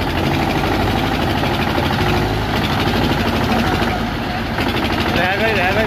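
Two tractors' engines rumble steadily and loudly while pulling an overturned trolley upright, with people shouting and talking over the continuous heavy drone.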